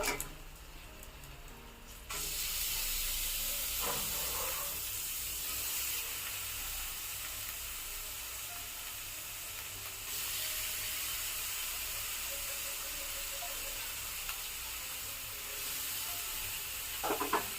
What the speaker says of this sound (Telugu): పెసరపప్పును కూడా బాగా వేయించుకుందాము ఈ ఆయిల్లో